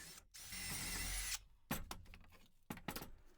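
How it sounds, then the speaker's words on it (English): Power drill with a 3/8 inch bit boring holes through wood blocks for a hanging mason jar planter, a sustained loud whine for over a second followed by shorter bursts and clunks as the bit is pulled out and repositioned. "Using my 3/8 inch drill bit, I'm drilling 3 holes, 1 in the center and 2 in the sides of each block."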